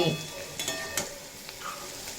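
Yardlong beans frying in a pan over a low-to-medium flame give off a faint, soft sizzle broken by a few light stirring clicks.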